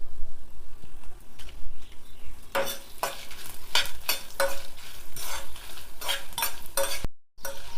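Coriander seeds, cumin and dried red chillies fry in a little oil, starting with a quiet stretch before a steady crackling sizzle is joined by sharp stirring clinks close by, with no talking.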